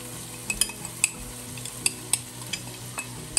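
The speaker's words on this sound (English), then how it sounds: "Next, sunod natin itong mix ng mirin and honey." Mirin and honey mix being stirred into ham fried rice frying in a pan, with a steady low sizzle and sharp intermittent scrapes and clinks of a utensil against the pan.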